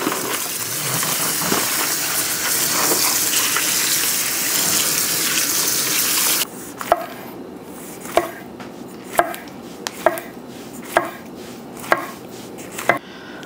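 Steady rushing of tap water for several seconds, then it cuts off and a knife chops in a regular rhythm on a board.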